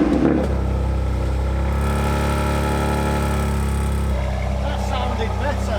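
Tuned BMW M2 Competition engine held at a steady, loud rev, a deep droning tone that drops slightly after four seconds, close up with a faint voice underneath.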